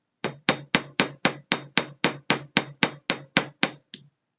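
A hammer drives a rivet into a drilled hole in a flat rock, with fourteen sharp, evenly spaced metallic strikes in a steady rhythm, close and alone, then silence.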